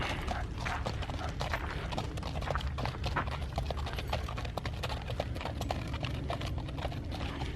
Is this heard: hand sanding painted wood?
no